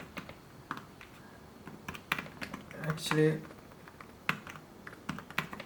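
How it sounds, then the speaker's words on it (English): Light keystrokes tap on an Apple Smart Keyboard attached to a 12.9-inch iPad Pro, irregular soft clicks spread across several seconds, with a brief spoken word partway through. "So now I am start typing on this keyboard."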